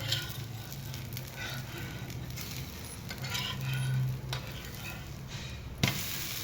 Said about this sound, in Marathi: हे बघा इथं आपला डोसा पलटी मारून घेऊया आपण